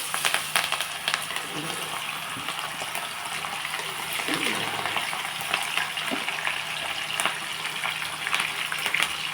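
French fries fry in hot oil with a continuous bubbling sizzle, close and fairly even, with faint clatters and scraping now and then.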